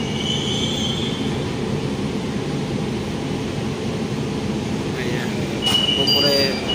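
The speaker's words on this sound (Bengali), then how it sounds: "তো এই মুহূর্তে ট্রেন ঢুকলো তারাতলাতে।" A Kolkata Metro Purple Line train pulls into Taratala station with a steady, heavy rumble of wheels on rails, a brief squeal near the end, and a voice talking over it.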